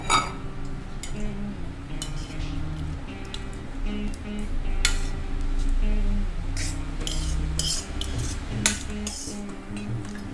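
A spoon scrapes and clinks against a metal dish as rice is stirred with tamarind paste, with soft irregular taps close by.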